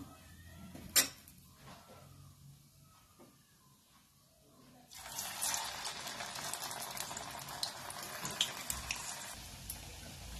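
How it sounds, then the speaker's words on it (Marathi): Potato fasting patties dropped into hot oil begin deep-frying partway through, after a quiet stretch with a few clinks, turning into a dense, crackling sizzle that continues to the end. "अशा पद्धतीने आपण आता सगळे हे तळून घेऊ"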